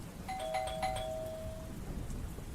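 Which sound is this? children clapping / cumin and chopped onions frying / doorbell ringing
doorbell ringing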